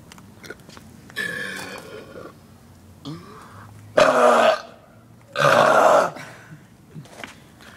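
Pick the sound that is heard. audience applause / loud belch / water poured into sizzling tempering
loud belch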